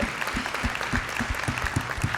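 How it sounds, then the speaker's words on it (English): Audience applause at an education and sports panel event, a steady wash of many hands clapping with some low thumping beats throughout, fairly close and even in level. "Let's give her a round of applause for that."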